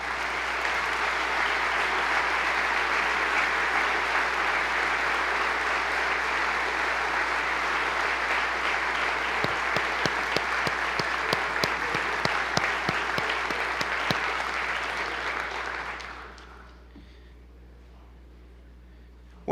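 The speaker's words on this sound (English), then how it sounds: "we'll give you a round of applause" Sustained applause fills a hall during a state of the state address, a broad, steady clapping that runs about fifteen seconds with a few sharper nearby claps near the end, then fades quickly to quiet.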